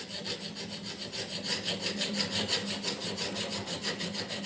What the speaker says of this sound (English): I'm thinning the steel a little behind the edge so it will work for the odd cross-grain cut